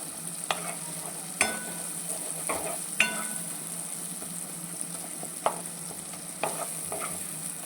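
Tomatoes roast in a pan for a palak egg curry with a steady soft sizzle, while a spoon scrapes and knocks against the pan in occasional sharp strokes.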